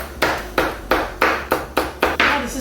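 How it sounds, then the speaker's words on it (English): Knife chopping ginger and onion on a board while making Chinese pork buns, seven crisp close chops in a steady even rhythm, with no talking. "I'm chopping like a professional person."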